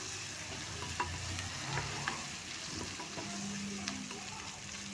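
Tomato sizzling and frying in a pan for a spinach and egg palya, a steady crackling hiss with occasional stirring scrapes and small pops, fairly close and continuous.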